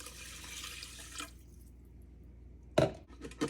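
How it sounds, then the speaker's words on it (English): Water poured into a pot of rice: a steady close stream of pouring that stops midway, then two brief splashy bursts near the end. "Then you add a cup and a half of water."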